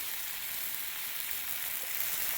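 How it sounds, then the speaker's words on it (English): Food sizzling steadily in a hot pan seasoned with cayenne, a dense, even hiss of frying that carries on without pause and with no voices over it. "Can you hear the sizzle?"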